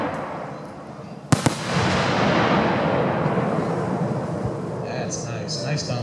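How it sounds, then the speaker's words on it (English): A Dominator firework shell bursts with one sharp, loud bang, followed by a long, dense crackling hiss that slowly fades, with faint sparkling pops near the end. "Nice Dominator shell."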